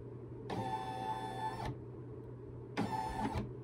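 An embroidery machine traces its stitch outline, moving in two whirring, buzzing motor runs of about a second and a half and half a second, close by over a steady low hum.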